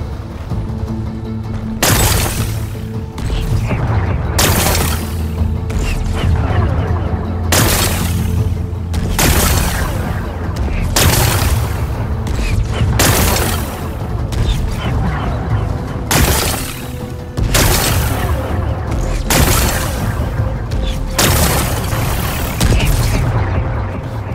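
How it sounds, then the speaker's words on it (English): Rocks being blasted apart with explosions in the video game Horizon Forbidden West, a series of loud booming blasts with crumbling debris, repeating at roughly regular intervals over a rumbling background. "Gotta blast away some rocks, so I can expose the power cell."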